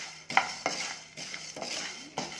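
Spices dry roast in a pan for a herbal kashayam for cold and cough. They are stirred in close, repeated scraping strokes about every half second over a faint crackle, with no voices.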